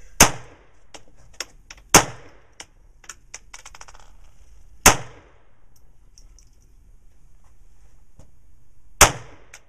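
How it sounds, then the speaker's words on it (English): Four sharp pistol shots from a Ruger MKIII or Sig Sauer at an outdoor range, spaced a few seconds apart, each a loud crack with a ringing tail, plus fainter clicks and handling noises between them. "now just take your time and shoot one right after the other"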